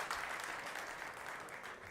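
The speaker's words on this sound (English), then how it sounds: "Big round of applause from the crowd." A crowd at the 2024 WPA Predator World 10-Ball Championship claps in sustained applause at the end of a pool match, steady and moderately distant, with no voices.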